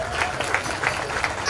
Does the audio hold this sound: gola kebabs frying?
no